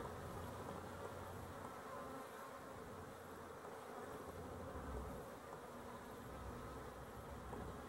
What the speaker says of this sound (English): nice looking fuzzy bees.